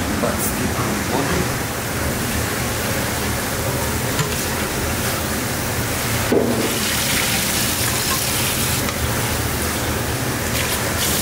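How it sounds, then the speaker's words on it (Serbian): The first boiling water is drained off beans for a soldier-style bean stew in a restaurant kitchen: a loud, continuous rushing pour with one brief knock partway through. "Sad ćemo baciti prvu vodu."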